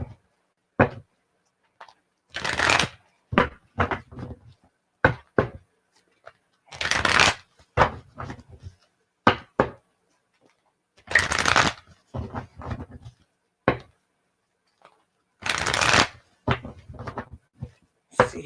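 A tarot card deck is shuffled by hand in repeated bursts, crisp riffling flutters and quick flicks separated by short pauses, close up and alone.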